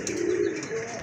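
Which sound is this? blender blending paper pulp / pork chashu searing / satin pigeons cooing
satin pigeons cooing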